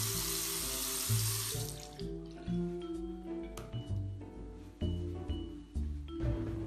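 Water runs from a tap into a sink during handwashing, a steady broadband hiss that thins out after the first couple of seconds into scattered splashes and drips, fairly close.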